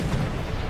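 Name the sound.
ship cannon fire in a pirate video game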